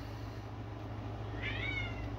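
A house cat gives one short meow partway through, heard indoors over a steady low background hum.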